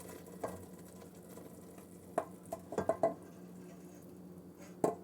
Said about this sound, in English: Ooh, listen to that boiling sound.